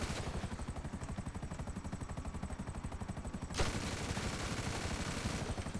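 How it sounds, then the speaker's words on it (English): Military helicopter in GTA 5, its rotor chop throbbing in a fast steady rhythm close and loud, overlaid with rapid machine-gun fire, with a brief burst or shift in the sound partway through. "This helicopter is a beast."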